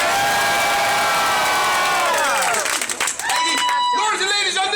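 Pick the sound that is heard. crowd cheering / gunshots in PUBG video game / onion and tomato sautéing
crowd cheering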